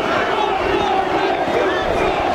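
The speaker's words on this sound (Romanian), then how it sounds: "Jos Băsescu, se scandează" Protest crowd in Bucharest in 2012, chanting against the president in a dense, continuous roar of many voices, steady and loud throughout with no single clear speaker.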